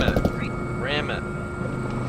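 A helicopter in the video game Squad gives off a steady rotor and engine drone under game noise and voices talking over it.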